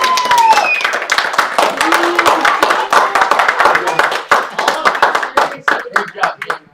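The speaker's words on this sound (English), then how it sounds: "Give your actress and actors a round of applause." A church service audience claps for the actresses and actors, a burst of applause that starts full and thins into scattered claps, with voices mixed in.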